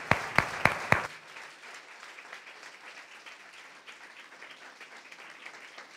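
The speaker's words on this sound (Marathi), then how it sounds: "एकदा देवाच्या वचनाबद्दल टाळ्या वाजू, आपल्या देवाला धन्यवाद देऊयात." A church congregation applauds during a Sunday sermon, opening with a few sharp nearby claps and then settling into a soft, distant, diffuse patter of clapping that carries on faintly to the end.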